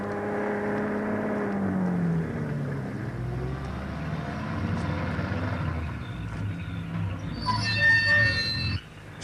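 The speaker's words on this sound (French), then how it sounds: "C'est un camion. Oui, un routier." A 12-ton lorry rumbling past, a low engine drone with a falling pitch sweep as it passes, steady and moderately loud, followed by a brief bright chirping burst near the end.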